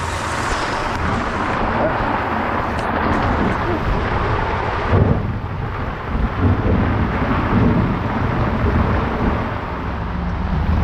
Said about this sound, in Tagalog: Lakas-lakas ng ulan.